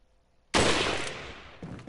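Gunfire in Resident Evil 4: a single sharp, loud shot after near silence, ringing out with a decaying tail and a smaller follow-up sound near the end.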